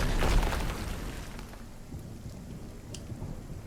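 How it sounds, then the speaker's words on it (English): Thunder from a lightning strike in the video game RuneScape: Dragonwilds rolls as a low, fairly quiet rumble. It swells at the start and then fades under a steady patter of rain. "I get struck by lightning."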